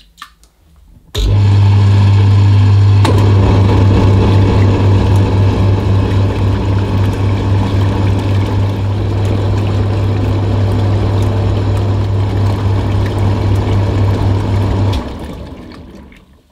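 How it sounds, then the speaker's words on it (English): A Tefal Washboy portable washing machine churns detergent into water, starting abruptly with a loud, steady motor drone and sloshing that runs continuously before winding down near the end. "switch the washer on for a few seconds or so, just to make sure that all the detergent is thoroughly mixed and dissolved into the water"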